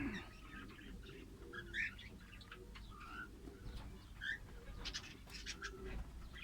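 Small birds being trained to perch on a hand, chirping in short, high bursts scattered through a faint indoor background with low rumble, no talking.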